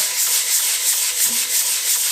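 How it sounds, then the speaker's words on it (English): Steady, continuous abrasive rubbing of an orbital sander working across wood, a bright high whir holding even throughout with no voices. "rotation sander just because it's quicker"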